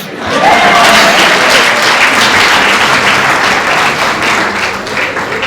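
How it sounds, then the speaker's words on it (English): Loud, sustained applause from a large audience, dense clapping filling the room throughout with a brief whistle near the start. "So clap for yourself."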